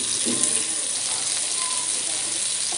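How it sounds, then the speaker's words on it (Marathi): Prawns sizzle steadily in a frying pan as they are all added at once, with a continuous bright frying hiss and a few faint clinks and stirring sounds. "मी सगळ्या कोळंबी एकसाथच ॲड करणार आहे या पॅनमध्ये"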